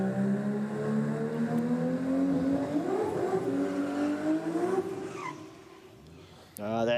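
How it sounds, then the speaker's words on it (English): At Sydney Dragway on a Wednesday night, a turbocharged Nissan GT-R's RB engine revs during a burnout, its pitch climbing steadily over several seconds before dropping off abruptly. "That unmistakable sound of that turbo Nissan motor winding up in the burnout"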